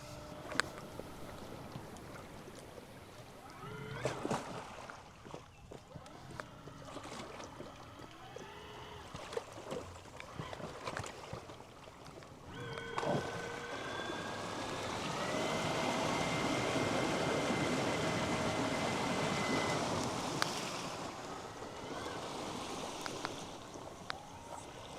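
An electric boat motor runs at low speed on open water, a soft steady whine with a couple of faint tones under lapping water and wind, slowly swelling midway and then easing off.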